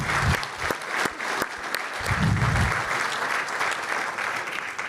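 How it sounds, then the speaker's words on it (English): An audience at a business lunch panel applauds a speaker, a steady crowd clapping that fills the room, with a few sharper individual claps and a brief low rumble partway through. "How about a round of applause for the gentleman up here?"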